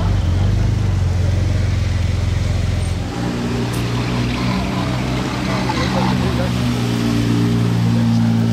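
A Lamborghini Murciélago LP640 in Monaco, a deep, loud engine rumble that drops in pitch around the midpoint and carries on as a steadier, lower drone, heard close and alone.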